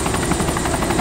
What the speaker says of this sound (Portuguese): Ai, é grandão esse helicóptero.